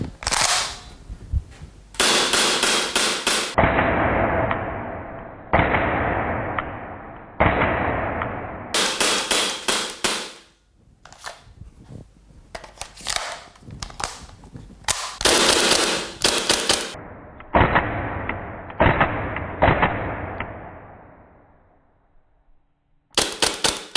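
A KWA MP9 (B&T MP9 A1) airsoft submachine gun fires loud, sharp bursts and strings of rapid shots, separated by brief pauses, close up with no talk.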